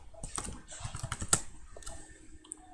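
Quick keystrokes on a computer keyboard while a command is typed into a command prompt, a short burst of soft clicks that is close and fairly quiet, with no talking.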